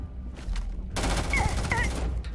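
A sudden burst of rapid gunfire in the video game Starfield erupts into dense, continuous shooting with sharp cracks, loud and close, and a few high tonal chirps mixed in.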